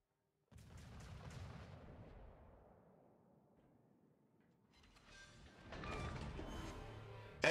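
Naval gunfire from warships in World of Warships: a heavy boom opens a long rolling rumble that slowly fades, then a second, louder cluster of blasts builds near the end.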